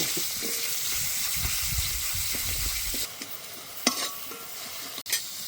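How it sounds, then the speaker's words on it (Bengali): Bone-in and minced chicken meat fries for momo filling with a loud sizzle and stirring scrapes. The sizzle then drops to a quieter hiss, broken by a few sharp clatters of the spatula against the pan. "এখানে হাড় যুক্ত মাংস আছে আর একটু পেস্ট করা মাংস আমি দিয়ে দেব। একটু ভেজে নেব।"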